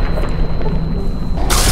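Shotgun blasts loaded with dragon's breath rounds in Fallout: New Vegas: a dense, roaring close-range discharge that sustains, then flares into a sharp, bright burst at the very end.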